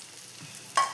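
Banana pieces sautéing in ghee in a pan: a soft, steady sizzle with faint stirring scrapes, then a brief brighter clink near the end, close up with no voices.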